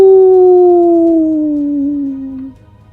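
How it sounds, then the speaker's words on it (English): A wolf pup in the snow gives a single long, clear howl that slowly falls in pitch, close and loud, then fades out. "Now the wolf pup howls"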